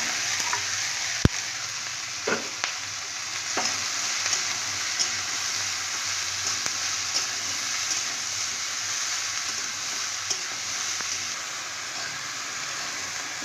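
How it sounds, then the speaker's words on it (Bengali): Chopped potato, eggplant, drumstick stems and beans hit hot oil in a frying pan, producing a steady, close sizzle for the whole stretch, broken by occasional sharp clicks and knocks of a utensil. "এবার আমি সবজিটা দিয়ে দেব।"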